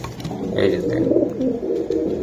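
Pigeons, including giribaj and Pakistani breeds, coo steadily at a busy pigeon market, a low warbling murmur from several birds under faint background voices.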